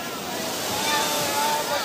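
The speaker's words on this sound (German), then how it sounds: "während sie mit ihren Nussschalen über die meterhohe Brandung setzen" High surf crashes and washes around rowing boats heading into Hanga Roa harbour on Easter Island, a loud, continuous roar of breaking water mixed with wind buffeting the microphone, while a voice talks over it.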